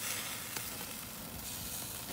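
Jamaican jerk chicken sizzles steadily on a hot grill, a dense, continuous crackling hiss close up with a few small pops, no voices.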